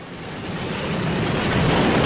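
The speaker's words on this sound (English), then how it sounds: "Cole, can we get the train, please?" A train sound effect played on a sports radio show, a steady rushing rumble that swells louder over about two seconds with no talking.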